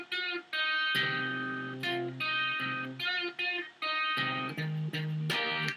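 Distorted electric guitar riff, played alone and close, its choppy phrase of chords and single notes repeated through twice.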